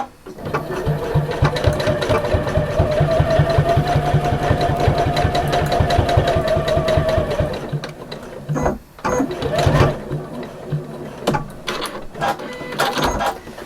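A domestic sewing machine stitches the wadded corners of a large fabric bag, its rapid even needle rhythm loud and close for several seconds before stopping, followed by handling noises.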